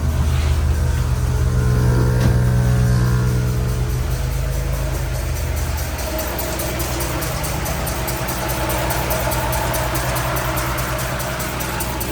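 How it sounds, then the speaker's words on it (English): Fan and motor running steadily after sitting for a couple of months, a continuous close engine-like hum and whir with a slight rhythmic knock, holding level throughout with no talk. "So the fan's working, the motor's working."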